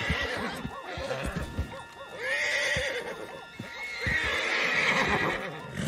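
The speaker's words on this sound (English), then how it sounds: "Put Strauss on the back of John's horse" A horse whinnies loudly twice in Red Dead Redemption 2, long shrill neighs over snorts and hoof clopping, with a busy game soundscape around them.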